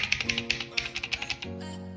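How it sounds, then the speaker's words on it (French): Typing on a KeyOne 2 SF computer keyboard, a quick run of crisp, close key clicks in an uneven rhythm that stops partway through, followed by a short fading tone. "voici mon nouveau clavier de KeyOne 2"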